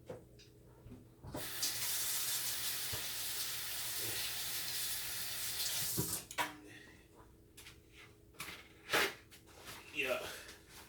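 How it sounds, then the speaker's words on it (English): A kitchen tap runs in a loud steady hiss for about five seconds as hands are washed, then shuts off, leaving scattered clatters and a voice. "I'm gonna go ahead and wash my hands right quick"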